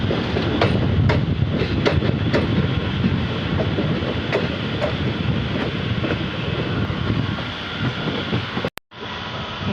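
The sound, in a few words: passenger train arriving at Gomti Nagar railway station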